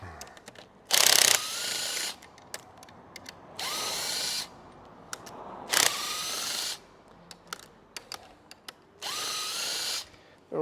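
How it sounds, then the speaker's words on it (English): A power driver spins out number 10 screws holding the alternator on a 2019 Mercury 300 V-8 outboard, with four whirring bursts of a second or so, separated by small clicks and handling noises. "remove 1, 2, 3, 4, number 10 screws holding the alternator in place"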